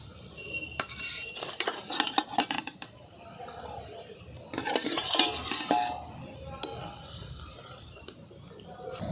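Fried aar fish goes into boiling gravy and is stirred, with metal utensil scraping and clinking against the pan, bubbling liquid, and bursts of louder stirring between quieter stretches.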